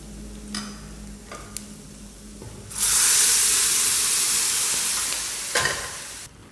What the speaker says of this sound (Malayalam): ഇനി നമുക്ക് വേവിച്ച കരൾ ഇതിൽ ചേർക്കാം